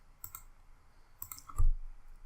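A computer mouse clicks in short, light, sharp pairs, about three quick clicks in just over two seconds. It sounds close and fairly quiet, with a soft bump near the end and no voice.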